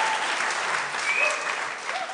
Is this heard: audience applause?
yes